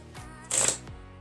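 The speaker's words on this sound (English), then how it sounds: "then I just shuffle off the cards" A short, crisp overhand shuffle of playing cards, a single quick burst of papery flicks over a faint background hum.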